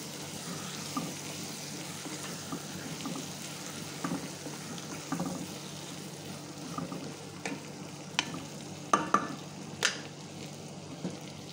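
Tomatoes are stirred in a cooking pan over a steady background sizzle, with scattered spoon scrapes and clinks that grow sharper and more frequent toward the end; no voices.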